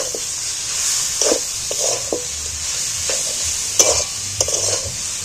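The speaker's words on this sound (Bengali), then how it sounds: "এইবার এইটাকে ভালো করে কষিয়ে ভাজা ভাজা করে নিতে হবে।" A spiced jackfruit curry mixture is stirred and fried in a pan. A constant sizzling hiss runs underneath, and the spoon scrapes the pan in irregular strokes, close and fairly loud, with no talking.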